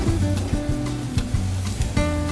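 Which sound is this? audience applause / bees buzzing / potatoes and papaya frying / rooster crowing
potatoes and papaya frying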